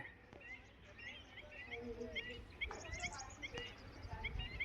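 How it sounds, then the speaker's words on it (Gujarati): Faint bird chirps and twittering calls come in short bursts near the water at Koteshwar, Kutch, over a quiet outdoor background, with some low rumbling and occasional knocks. "પાણી અને પક્ષીઓનો અવાજ"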